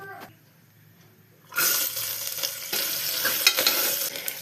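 Coconut pieces frying in oil or ghee over a medium flame: near-silence, then a sudden loud burst of bubbling sizzle that keeps crackling steadily and close, with no one talking.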